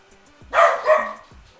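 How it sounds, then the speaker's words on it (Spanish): A dog barks nearby with two quick, loud barks in succession, standing out sharply against an otherwise quiet room with no talking. "Puto perro."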